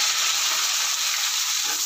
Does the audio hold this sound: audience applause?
no